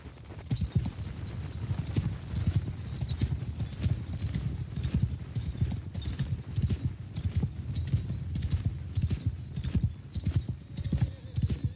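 Horse hooves clip-clopping in a medieval-style video game, a fast continuous run of close, sharp hoofbeats with faint background game noise.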